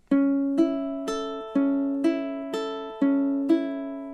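Measure 4 of a ukulele fingerpicking etude, identical to measure 3, played as a steady run of eight close plucked notes that ring bright and even, with no talking.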